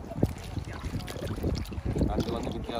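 Crab being washed by hand in water while cooking crab curry, with continuous close splashing, sloshing and trickling that swells and dips over a few seconds.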